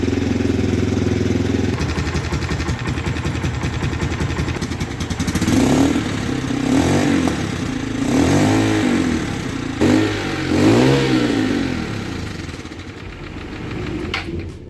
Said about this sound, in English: the noise from the engine is definitely concerning